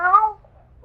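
A short, clear cat meow in an old 1947 radio drama adaptation of Alice in Wonderland, one rising-falling cry lasting about a third of a second, followed by faint low background hum.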